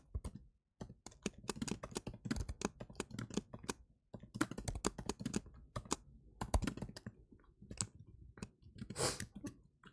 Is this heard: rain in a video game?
no